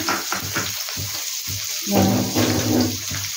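Sliced onions with salt sizzle in hot oil in a pan for black pepper chicken, a steady close hiss of frying broken by a few soft stirring scrapes, with no talking.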